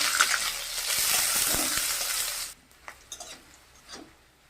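Dried red chillies, cumin, bay leaf, onion and green chillies frying in mustard oil for a green pea dal: loud, dense sizzling for a couple of seconds, then dropping to a quiet crackle with a few soft clinks of a spoon against the pan.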